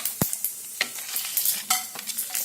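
Cumin seeds sizzling in hot oil for fried rice, a bright crackling hiss with sharp pops and occasional stirring scrapes, close and fairly loud with no voices.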